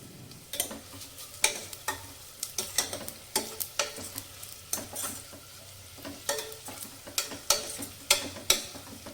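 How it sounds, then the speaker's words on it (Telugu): Pulao masala frying with golden brown onions in a pan, a low sizzle under repeated sharp scraping strokes of a spoon stirring at an uneven rhythm, close and fairly clear. "ఆనియన్స్ మంచి గోల్డెన్ బ్రౌన్ వచ్చిన తర్వాత ఇప్పుడు ఇందులోకి చూపిస్తున్న పలావ్ మసాలాలన్నీ వేసేసుకొని ఒక 10 సెకండ్స్ ఫ్రై చేసుకుందాం"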